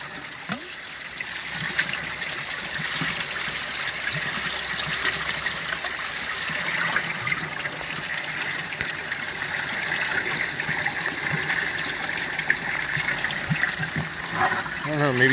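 Water rushes steadily through a low head turbine test setup, a dense continuous outdoor flow, loud and unbroken for the whole stretch, with no voices over it.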